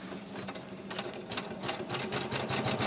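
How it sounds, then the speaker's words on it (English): An embroidery machine sews a line around the raised quilted edges of an in-the-hoop piece, its needle hammering in a fast, steady rhythm that stays close and loud throughout. "What it's going to do now is just sew a line around the raised edges just to make it sure that it's raised."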